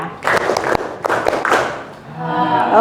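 Indonesian classroom students answer a clap-three-times call with a handful of sharp, close claps in an uneven burst, followed by a voice speaking at the end.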